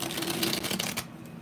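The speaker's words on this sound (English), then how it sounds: "Let's shuffle these real good." A deck of tarot cards is shuffled by hand in a dense, rapid riffling burst lasting just over a second, close and fairly loud, with no talking.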